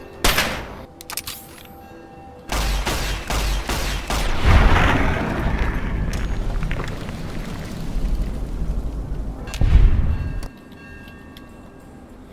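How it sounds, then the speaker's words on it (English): Gunfire with incendiary fire bullets in Fallout: Tale of Two Wastelands booms in loud, sharp shots, then settles into a long, dense roar of continuous fire and burning rumble, with another heavy blast near the end. "I'm going to start shooting it with fire bullets until I kill it"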